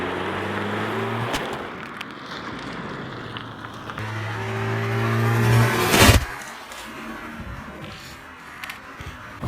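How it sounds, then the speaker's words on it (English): A car rolls over a Samsung Galaxy S6 Edge phone, its engine a steady low drone that swells and revs, broken by a sharp loud crunch or crack partway through, then a quieter idle afterward. "let's just see if this thing holds up to a car"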